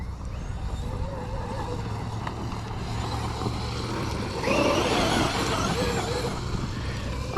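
Traxxas XRT RC truck driving across a field, with a whining electric motor that rises to a louder, harsher surge as it pulls wheelies, heard at moderate distance.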